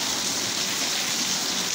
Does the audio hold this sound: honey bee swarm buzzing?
no